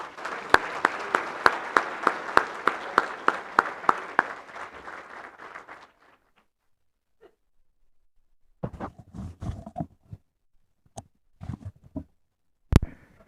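Applause from a banquet crowd at a touchdown club sports awards dinner, with dense, steady clapping that fades out after about six seconds. Scattered single claps and some movement noise follow.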